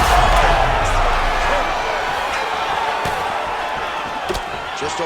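A UFC arena crowd roars loudly and steadily through the whole stretch, a dense, sustained wall of cheering with a few sharp peaks, while a commentator's voice talks over it.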